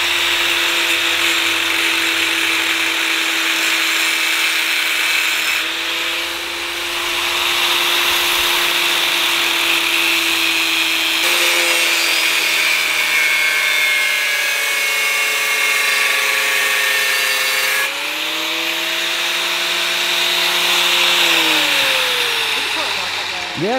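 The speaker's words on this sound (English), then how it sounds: "You're better with a grinder than I am." Angle grinder with a cutoff wheel cutting metal, a loud, steady high-pitched whine that continues for a long stretch and shifts in pitch as the wheel bites and the load changes, with people talking.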